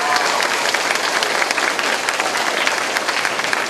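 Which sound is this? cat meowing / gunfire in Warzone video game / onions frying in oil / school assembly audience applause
school assembly audience applause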